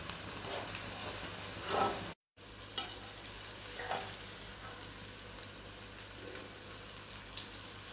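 Okra pieces being lifted out of hot frying oil, a steady soft sizzle with a couple of brief scraping stirs and a short dropout partway through.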